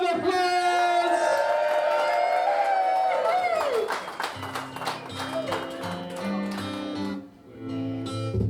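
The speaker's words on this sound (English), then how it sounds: "Let's give a big round of applause!" Wedding guests cheer and clap as the newlyweds are introduced for their first dance: rising whoops and scattered clapping, soon joined by music that carries on beneath the crowd.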